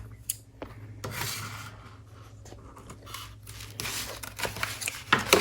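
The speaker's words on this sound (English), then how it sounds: "So right now I need to cut my vinyl." Vinyl sheet being cut by hand with scissors for a DIY sticker: several sharp snipping strokes and rustling of the material, close and fairly quiet, with short pauses between cuts.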